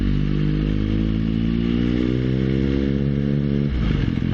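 A motorcycle accelerates through a small built-up area as its engine note climbs steadily in pitch. The engine is loud and close, with a brief clattering shift near the end.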